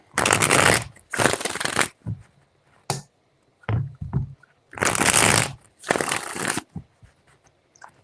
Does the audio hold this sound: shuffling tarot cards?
yes